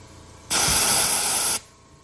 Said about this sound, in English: turn on the air compressor and spin this tab,